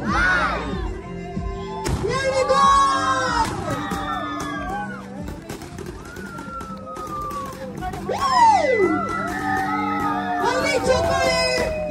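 A wedding crowd at a grand event in Gadag cheers and whoops loudly as a couple is welcomed, with rising shouts and scattered calls over a speaker talking to the guests.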